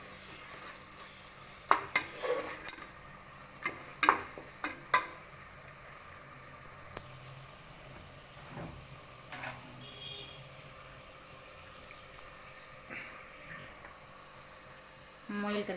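Rabbit curry meat frying in a pan with masala, stirred in scattered bursts of scraping and clatter over a low steady sizzle, with quieter stretches between.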